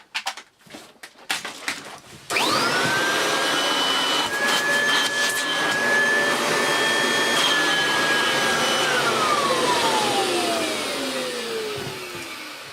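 Kirby Legend 2 vacuum cleaner running in cylinder mode with a fairly full bag: a few handling clunks, then the motor spins up into a loud steady whirring roar with a high whine that slowly drops away.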